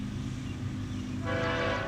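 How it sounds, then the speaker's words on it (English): A westbound mixed freight train, Q201, on the Willard Sub at Deshler, Ohio, rumbles low and steady, then its horn blares in partway through, loud and sustained over the rolling train noise. "Here comes yet another westbound train on the Willard Sub."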